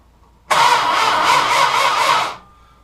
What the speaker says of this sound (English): They have a starter relay, or a solenoid. And on mine, it's right here. And all you need is a screwdriver to jump the connection.